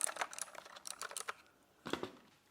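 Fingers type in rapid bursts on a Magic Refiner MK14 65% mechanical keyboard with clicky switches, producing crisp, close key clacks in an uneven flurry, a short pause, then another burst.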